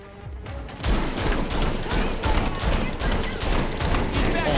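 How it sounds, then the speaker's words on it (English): Rapid video-game gunfire aimed at police, with dense repeated shots in a steady volley that starts about a second in and runs loud through the rest of the clip, close and prominent. "Oh, I'm shooting cops."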